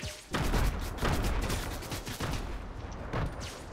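Rapid bursts of gunfire in a Fortnite match crack out in clustered volleys, loud and close, with several sharp shots stacking over a rumbling background.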